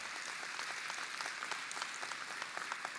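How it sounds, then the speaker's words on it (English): Audience at a keynote of an annual conference applauding, a brisk field of many hands clapping heard from a distance, moderately quiet and steady throughout. "He deserves a great round of applause."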